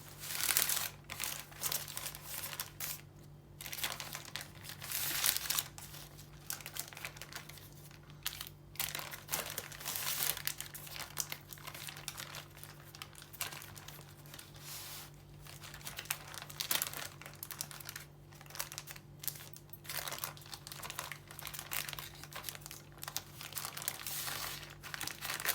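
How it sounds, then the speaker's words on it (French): Parchment paper crinkles and rustles continuously as it is slowly pulled while rolling up a tomato dough roulade in a kitchen, a close, dense crackling texture over a low steady hum. "Et j'avance doucement, doucement en tirant mon papier cuisson."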